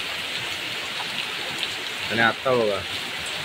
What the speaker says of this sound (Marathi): वरती जोरात पाऊस आलाय.